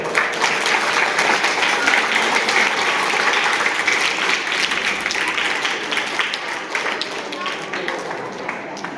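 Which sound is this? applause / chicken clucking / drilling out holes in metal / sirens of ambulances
applause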